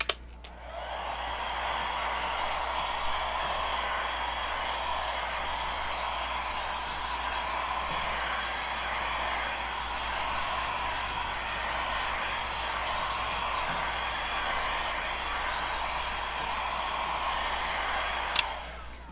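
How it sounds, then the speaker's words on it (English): A heat gun blows a steady, loud airy roar over acrylic paint during a blown-flower pour, running continuously for nearly the whole stretch with clicks at switch-on and switch-off. "Maybe I'll hit it with the heat gun a little bit."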